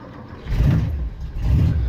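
Ford F-100 truck engine starting from cold: two quick low rumbling surges about a second apart, close and fairly loud, with the second settling into a rough, uneven idle.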